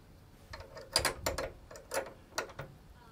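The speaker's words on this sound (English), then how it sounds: "We're gonna take a 10 millimeter wrench." A 10 mm wrench loosens a bolt while an Everchill RV refrigerator with freezer is set up in a 2019 Entegra Coach. A few faint, close metallic ratcheting clicks come in uneven bursts.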